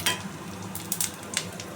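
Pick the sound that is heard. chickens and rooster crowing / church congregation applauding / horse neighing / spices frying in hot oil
spices frying in hot oil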